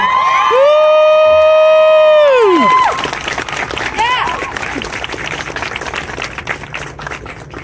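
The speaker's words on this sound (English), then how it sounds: "one more round of applause for Sarah" Crowd at a Take Back the Night rally cheering and applauding a survivor speaker, loud whoops and shouting over steady clapping that fades slightly but keeps going; a voice rises briefly at the start.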